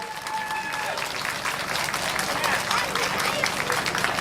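Audience applause at the Miss Utica beauty pageant of Krajiški Teferič, steady dense clapping throughout with crowd noise and some voices mixed in.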